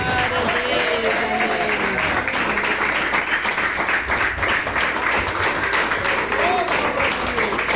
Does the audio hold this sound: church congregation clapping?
yes